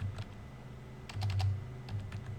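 Brief soft clicks of typing on a computer keyboard while entering a color name into a style sheet, a few quick key taps in two small clusters, faint and close, with a low hum underneath.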